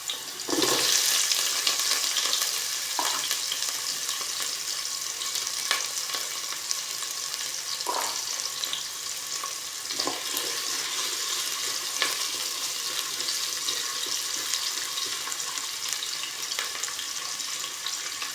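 Onion, ginger and garlic frying in a pan for squid adobo with string beans, a steady loud sizzle running throughout with a few soft stirring knocks, no talking.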